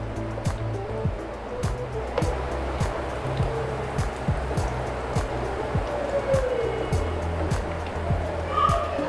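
Dahi bhalla lentil fritters fry in hot oil with a steady, close hiss and sizzle, punctuated by faint regular ticks and pops throughout.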